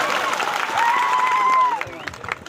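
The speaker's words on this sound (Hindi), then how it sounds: "एक बार जोर जोर तालियां बजाते हैं।" Applause and crowd noise at a village gathering in Survakoyda gram panchayat for World Tribal Day, a busy clapping wash under a sustained whistle-like tone, with voices mixed in.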